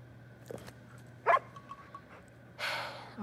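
Dog sounds from the video game Uncharted 4: a few soft, scattered yips and snuffling breaths at close range, then a louder airy huff near the end, fairly quiet overall with no talk.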